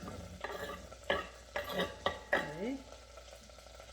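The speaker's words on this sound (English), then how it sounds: "going to saute the onion, and it's just a small half of an onion" Half a small onion sautéing in a pan for potato soup, soft sizzling with several scraping stirs in an uneven rhythm, close and fairly quiet; a voice speaks briefly.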